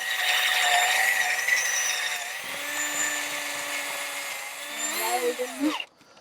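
Close, loud whine of a power drill boring out dowel holes in wood for a small napkin holder. The motor runs steadily, drops in pitch midway, then winds down and cuts off near the end.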